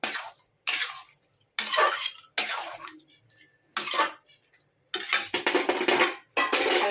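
A metal plate clatters and scrapes against a pan of chicken curry as it is set on top as a lid, several sharp close clinks in separate bursts.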